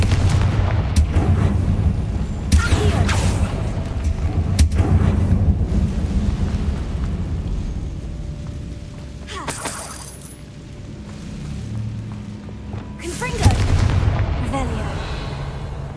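Repeated explosions from the Confringo spell in Hogwarts Legacy, loud booming bursts spread through the passage over a rumbling game soundscape, with occasional spoken lines between them.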